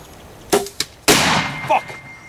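A rifle shot fired at a Cape buffalo during a hunt in South Africa, one sharp loud crack with a short decaying tail, preceded by a couple of fainter knocks and followed by a brief exclamation.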